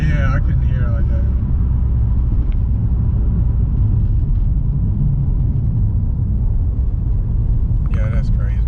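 Subaru WRX fitted with a cat-back exhaust, a loud, deep rumble running steadily throughout at close range, with brief voices at the start and end.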